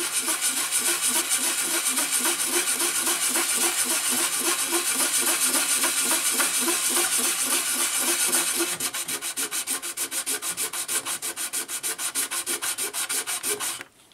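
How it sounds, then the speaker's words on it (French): Sandpaper rubs rapidly back and forth over the wheel arch of a Liberty Walk Ferrari 458 scale model, a close, steady rasping rhythm of quick strokes that continues throughout without any talk. "je vais venir en effectuant une petite pression ici sur le passage de roue, poncer"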